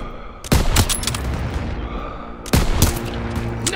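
Two loud bursts of machine gun fire with heavy booms in the World War II shooter game Call of Duty WWII, rapid shots rattling at close range amid battle noise, separated by a steadier rumble.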